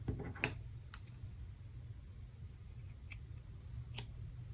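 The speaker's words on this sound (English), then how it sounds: "we can just snip that right off" Scissors snip off trim from a paper card during Stampin' Up card making, a few faint, sharp clicks over a steady low hum, with one clearer snip early on.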